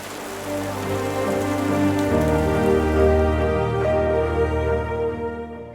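The first rains of the season fall in the Orinoco basin, a loud, close, steady hiss of rain pattering on surfaces that holds without a break for several seconds.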